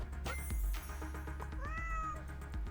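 A cartoon cat gives a short meow as it enters in the pet-battler game Super Auto Pets, a clear, high, rising call over steady game music and effects, loud and close with no one talking.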